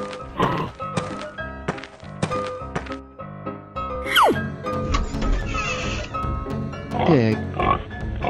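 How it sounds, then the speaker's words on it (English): A cartoonish pig oinks a few times in a children's animal-guessing escape-room game, mixed in with bright music and other playful sound effects at moderate loudness. "Pig."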